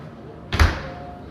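An apartment front door swings and shuts with a single solid thud, a short wooden knock standing alone against quiet room tone.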